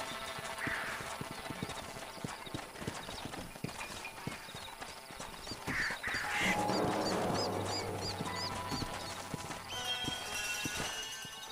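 Horse hooves clip-clop at a steady riding gait through a frontier landscape in Red Dead Redemption, close and continuous, with geese or other fowl honking faintly in the background partway through.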